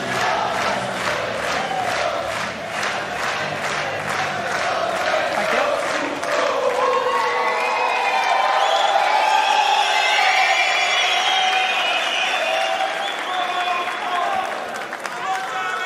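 A large crowd at the World Cup of Pool 2023 finals, Philippines vs Germany, claps rapidly and loudly, then swells into cheering and whooping. A commentator's voice runs over it.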